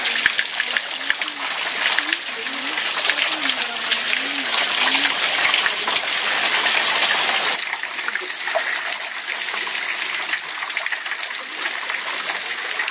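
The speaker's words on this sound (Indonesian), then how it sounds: "mau hujan mau tidak hujan tetap airnya mengalir seperti ini ya" Steady running water, a continuous broadband rush that holds for most of the stretch and then drops somewhat quieter, with a low voice faintly underneath.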